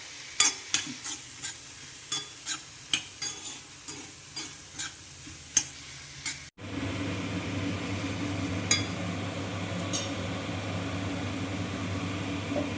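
Onion sautéing in a pan with ginger, garlic and salt. At first a spoon scrapes and stirs in sharp, regular strokes over a light sizzle. Then a steady, louder frying hiss takes over, with a few faint clinks and no voices.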